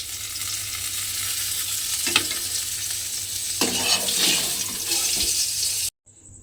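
Pointed gourd (potol) fries in hot oil with a dense, close sizzle, broken by a few louder bursts as the pieces are stirred, before the sound cuts off abruptly near the end.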